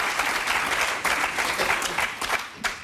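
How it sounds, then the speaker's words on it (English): An audience applauding at a political event, dense continuous clapping that fills the room, fairly loud and close, with a few louder bursts near the end. "And they're applauding."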